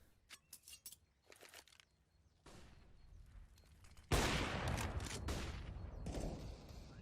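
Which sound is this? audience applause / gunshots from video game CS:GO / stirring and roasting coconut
gunshots from video game CS:GO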